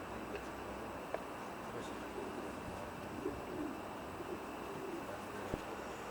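Racing pigeons in a stock loft coo softly, their low, faint calls rising now and then over a steady background hiss.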